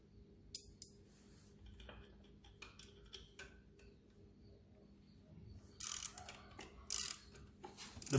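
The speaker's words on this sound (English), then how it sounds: "Here's your 10mm socket right here." A ratchet with a 10mm socket works the shifter pedal bolt on a 1999 Kawasaki Vulcan 1500 Nomad motorcycle: scattered light clicks and taps, then louder ratcheting bursts near the end, close and fairly quiet, with no talking.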